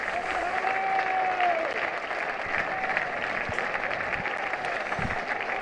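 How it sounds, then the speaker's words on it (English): Crowd applause at a Gloucestershire v Lancashire one-day cricket match, a steady broad wash of clapping throughout, with a commentator talking over it. "there's his mother on the balcony watching, applauding him"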